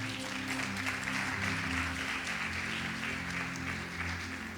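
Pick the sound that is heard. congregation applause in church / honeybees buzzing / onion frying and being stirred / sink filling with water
congregation applause in church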